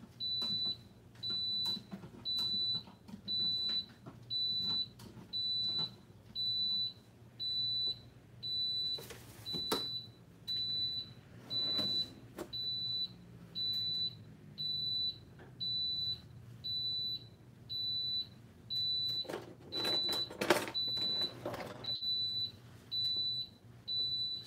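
An electric pressure cooker beeps again and again, a steady run of high, evenly spaced electronic beeps about once a second, with occasional clatter of cooking utensils in between.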